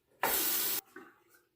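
Water runs from a tap as a safety razor is rinsed, a loud steady gush lasting about half a second, followed by fainter splashes and drips.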